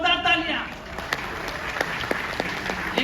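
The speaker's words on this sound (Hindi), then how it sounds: "जोरदार तालियां।" Audience applause at a live trading competition event, a dense steady wash of clapping with a few sharper claps standing out, sustained throughout at moderate level.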